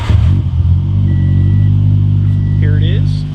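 A Scion FR-S engine idles steadily after starting, a loud, continuous low rumble close by with a brief rise at the start, while a voice talks over it.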